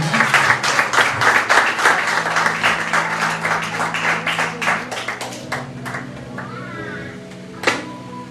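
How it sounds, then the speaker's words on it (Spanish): Congregation in a church gives a loud burst of applause that fades after about five seconds into scattered claps, with background tones and a voice rising near the end. "Un fuerte aplauso al Señor."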